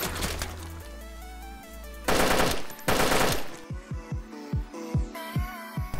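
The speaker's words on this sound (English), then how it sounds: "Shooting at me." Gunfire aimed at the player in DayZ, fired from a log cabin, comes as dense bursts of sharp shots and then a string of separate reports with a few pauses between them.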